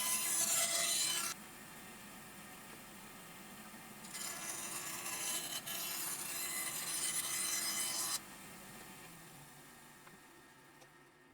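Edges of a wooden guitar fretboard being trimmed, a loud rasping buzz of a cutting tool in two sustained passes with a quieter lingering whine between and after, close up with no talk.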